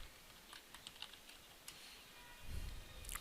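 Quick, light tapping on a computer keyboard, a burst of close key clicks in an irregular rhythm, fairly quiet with no talking.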